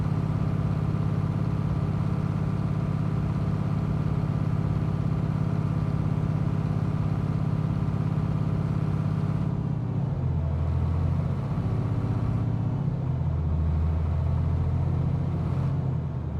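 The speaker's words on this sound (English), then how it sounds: "this engine is supposed to sound deeper" A truck engine idles in Euro Truck Simulator 2 with a steady low rumble and a constant hum that hold throughout, shifting in tone near the end as the engine note wavers and pulses.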